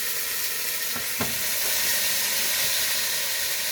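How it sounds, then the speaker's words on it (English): Steady, loud sizzling of chicken frying in a pan, with a couple of brief clicks or stirring knocks partway through. "Get it sizzling just for a bit."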